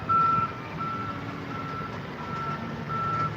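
A reversing truck sounds its backup alarm, a steady beeping tone carrying over low engine rumble at moderate distance, with no voices.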